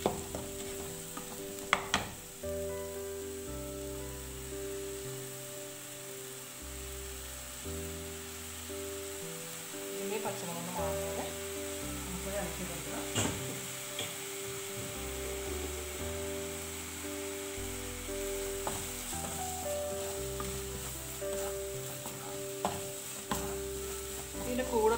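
Ground coconut paste with turmeric, chilli and coriander powder sizzles steadily in a pan for a Kerala fish curry, a continuous close frying hiss with occasional stirring scrapes and clinks.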